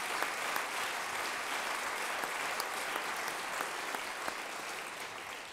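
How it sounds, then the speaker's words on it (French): A large audience applauds Alexandre de Juniac, president of the Air France group, at the 2012 Manager of the Year award ceremony, with an even, sustained wash of clapping heard from a distance. "Je vous demande d'applaudir Alexandre de Juniac, président du groupe Air France"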